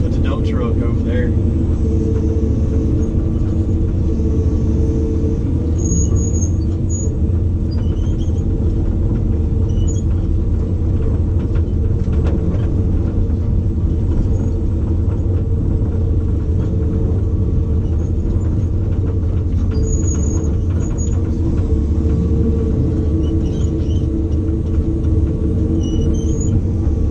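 A Ford L8000 dump truck works beside a Cat 345 excavator on a dig site, with a steady, close, loud diesel engine rumble that runs without a break throughout.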